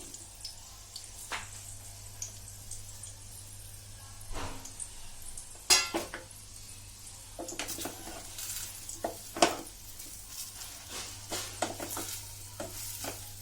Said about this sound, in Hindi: तो अब ये गरम तेल में मैं ये भिंडियां डाल दूंगी